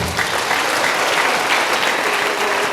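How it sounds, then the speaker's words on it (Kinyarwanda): A congregation at a Sunday church service breaks into loud, sustained applause, a dense wash of many hands clapping steadily from start to finish. "nimwokomera amashyi Umwami Yesu"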